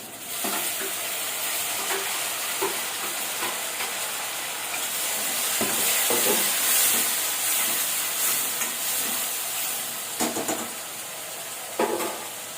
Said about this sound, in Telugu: ఈ ఆనియన్స్ కొంచెం వేయించుకోవాలన్నమాట.